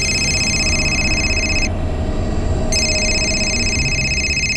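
A telephone rings with two bursts of electronic trilling separated by a brief pause, heard over a steady background hum.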